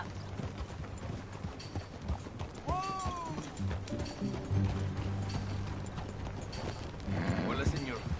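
A horse ridden at a steady pace in Red Dead Redemption 2, its hooves clip-clopping in a rhythmic patter under game voices and ambient sound, with a brief whinny-like call partway through.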